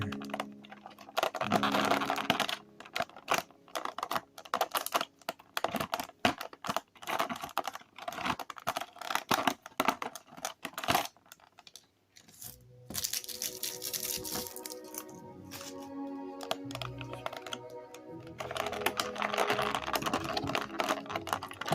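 Packaging ties on a NECA Pinhead action figure are twisted off in a run of quick, close, crinkly clicks and rustles, with a denser stretch of plasticky rustling toward the end.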